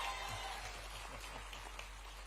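An audience applauding at a state-level Vimukti Diwas event in Bhopal: a steady, soft patter of many hands clapping at a distance, like rain, with a low hum beneath.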